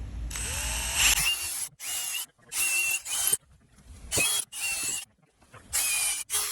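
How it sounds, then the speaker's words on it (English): A power drill boring a pilot hole, a little wider than the screw, in wood for a wall-mounted fishing rod holder made from recycled materials: several short, loud, close whirring bursts separated by brief pauses. "just simply drilling a pilot hole"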